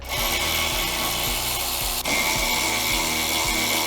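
Power tool work removing brake line hardware from a Polaris RZR XP trailing arm, a loud close whirring drone with a rhythmic low pulsing and a brief dip midway.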